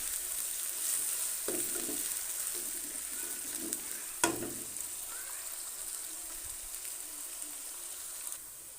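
Large onions frying in a pan for a karahi gosht dish, a steady close sizzle with a few louder stirring scrapes and clatters throughout.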